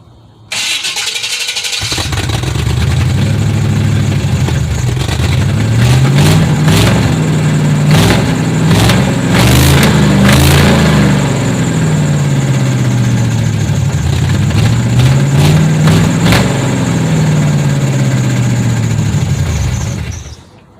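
A truck with dual exhaust starts up and revs loudly from behind, with repeated rising and falling surges over a rumbling idle, close and prominent.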